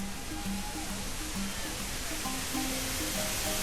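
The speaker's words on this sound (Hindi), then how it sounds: "ये है एक मैजेस्टिक वाटरफॉल।" Majestic waterfall beside the Chandratal to Manali road, a steady broadband rushing roar at moderate level, with faint intermittent tonal sounds over it.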